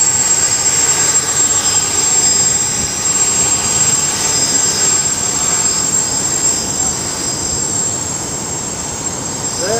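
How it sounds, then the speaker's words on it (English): ArduCopter multicopter drone running the latest development code, its motors armed and spinning up into flight, a loud steady whirring drone that fills the whole stretch and eases slightly toward the end. "Here we go, arm your engines and go fly."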